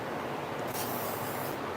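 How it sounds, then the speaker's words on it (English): Oil sprayed from an aerosol can onto freshly finished knives, a steady hissing spray with a brief louder burst in the middle, close and alone. "So here's what they look like when you spray some oil on them."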